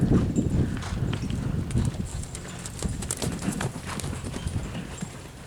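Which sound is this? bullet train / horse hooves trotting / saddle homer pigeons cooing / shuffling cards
horse hooves trotting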